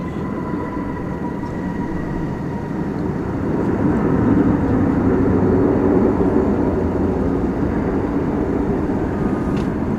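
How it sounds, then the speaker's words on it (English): An Airbus A321 airliner landing at DFW airport, a steady broad jet roar heard from a distance that swells slightly midway and holds loud throughout, with no voices. "This was flight 1617 coming in there from San Diego, California, in Airbus A321."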